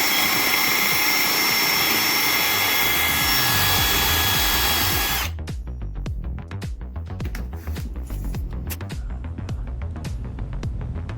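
A power drill spins a 1.5 inch hole saw into a wooden 4x4 post, a loud, steady grinding whine for about five seconds that cuts off abruptly, followed by quieter, irregular clicks and clatter.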